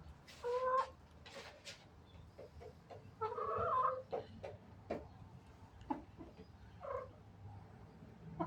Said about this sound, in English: I'll see if we can get a hen coming through.